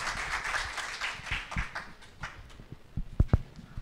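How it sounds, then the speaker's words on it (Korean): Scattered applause from a conference audience at an academic spring meeting of a Korean restaurant management society: irregular individual claps, fairly sparse and moderately quiet, with a few sharper, louder claps near the end. "큰 박수로 부탁드리겠습니다"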